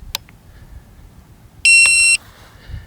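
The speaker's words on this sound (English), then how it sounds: "I'm going to hit the button here and turn off the controller." A Hubsan Zino drone controller switching off outdoors by a lake, giving a short click and then a single loud, steady electronic beep about half a second long over faint background noise.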